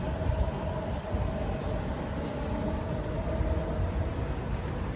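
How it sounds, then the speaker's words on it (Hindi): A metro train runs past near a residential commercial area in Greater Noida, giving a steady, loud rumble of rolling wheels and carriages through the whole stretch with no talk over it. "मेट्रो जा रहा है।"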